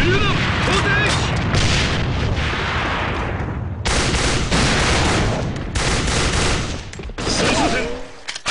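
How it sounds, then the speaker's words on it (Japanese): Grenade explosions and rapid gunfire in the online shooter AVA, dense bursts of booms and shots that continue almost without pause, loud and close, with a voice faintly mixed in. "手榴弾投擲手榴弾手榴弾投擲"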